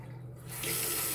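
Water runs steadily from a bathroom tap in an apartment, a continuous close hiss that swells louder partway through, with no voices.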